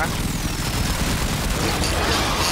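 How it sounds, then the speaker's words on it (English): Gunfire from Clem shooting at the floor in Warframe, a dense continuous barrage of shots that stays loud and close throughout, with voices talking over it. "He's shooting the floor"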